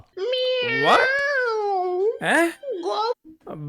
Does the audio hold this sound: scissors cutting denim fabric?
no